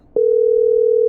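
Telephone tone in the horror video game Killer Frequency, a single steady loud pure tone that starts abruptly and holds without a break.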